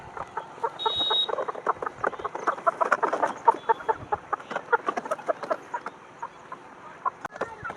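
Many chickens clucking and squawking in a dense, continuous chorus of short overlapping calls, close by, loaded inside a vehicle.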